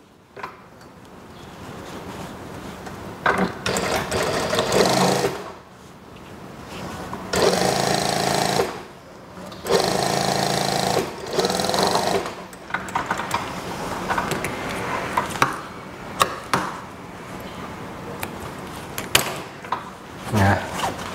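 Sewing machine stitching a plain-waistband school skirt: several bursts of motor whir and needle clatter lasting a couple of seconds each, separated by pauses with handling noises and faint background sounds.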